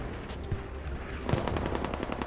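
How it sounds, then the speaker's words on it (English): Artillery strike in the military shooter Squad during a tournament match: a steady low rumble of battle, then a dense hail of rapid blasts and impacts that swells and stays loud to the end. "Artillery strike coming in right behind me right now."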